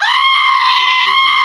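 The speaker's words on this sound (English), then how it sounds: "Screaming goats. I have an app for that" Screaming goat sound played loudly from a phone app, a single sustained shrill bleating scream lasting the whole moment, harsh and steady with no talk over it.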